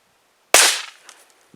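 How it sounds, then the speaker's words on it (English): A single sharp, close crack from a Chiappa Little Badger rifle breaks the silence, decaying quickly with a short echo tail and a faint click afterward. "let's go fire a couple shots"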